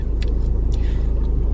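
Constant low rumble of a car's cabin while driving, a steady heavy drone with a few faint higher ticks on top, close and unbroken.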